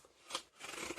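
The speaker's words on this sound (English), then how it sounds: "So let's cut into this" Scissors snip and crunch into a package holding plantain chips and peppermint oil, with two or three close, short cutting bursts over about a second.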